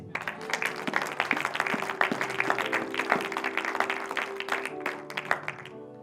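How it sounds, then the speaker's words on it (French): A church congregation applauds during a French-language sermon, with dense, sustained clapping from many hands over about six seconds and a steady background of crowd noise. "Acclame Jésus."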